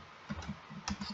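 Fingers tap a computer keyboard while entering install commands on CentOS Stream, a quick irregular run of soft clicks close up, fairly quiet and without talk.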